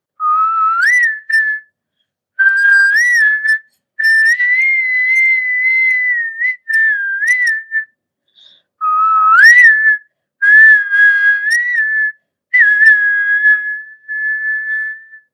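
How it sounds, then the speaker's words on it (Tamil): A person whistles a melodic tune solo, clear bright phrases with short pauses between them, close and fairly loud with no accompaniment. "எங்களுக்காக அந்த விசிலிங் மட்டும்."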